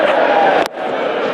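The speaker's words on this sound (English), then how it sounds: "Into the noisy part of the crowd." A crowd at a New Zealand versus Australia T20 cricket match roars loudly after a six, with a broad, dense cheer, a sharp thump midway, then a slightly softer sustained din; a voice talks over it.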